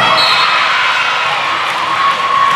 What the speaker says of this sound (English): it's really the first time the crowd's been into the game all night